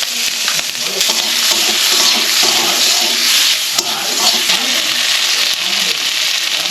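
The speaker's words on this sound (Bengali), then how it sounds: "চিংড়ি মাছগুলো ভেজে নেবো" Salted prawns coated in turmeric fry in hot oil, a loud, dense, continuous sizzle with stirring scrapes and pops close up, and no talking.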